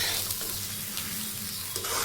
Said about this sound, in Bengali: এখন আমি চালটাকে এর মধ্যে দিয়ে দিলাম। চালটাকে তেলের মধ্যে খুব ভালো মতন ভেজে নেব।